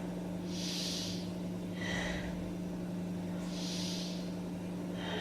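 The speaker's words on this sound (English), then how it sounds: "Take 3 breaths here." Deep, slow yoga breathing during a beginner upper-arm stretch pose: three close, airy breaths, each a soft hissing inhale or exhale over a steady low hum.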